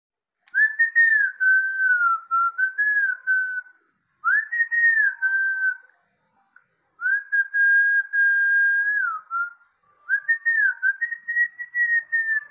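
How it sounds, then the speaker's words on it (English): A clear, solo whistled tune in a Gacha Club animation, with four melodic phrases separated by short silences, bright and close with no other sound. "It sounds like a whistle to us."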